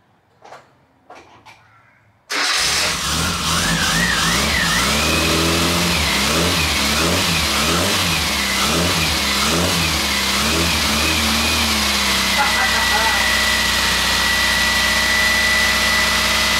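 An Austin Metro engine, after a gearbox rebuild, cranks and catches abruptly after a few quiet sounds, then runs loudly and close with rhythmic rising and falling throttle revs before settling to a steadier idle.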